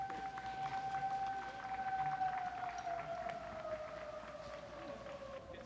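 A warning siren wails steadily across an outdoor disc golf course at a professional women's tournament, a single sustained tone that slowly falls in pitch, moderately faint and distant over wind and ambient crowd noise.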